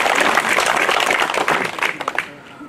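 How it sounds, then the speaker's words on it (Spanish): A crowd breaks into sustained applause, dense clapping that swells and then thins into scattered claps before fading out. "el ciudadano José Luis Romero González, para quien pido un fuerte aplauso"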